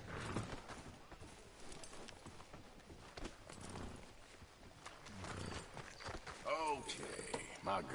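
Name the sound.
horse hooves clip-clopping in a video game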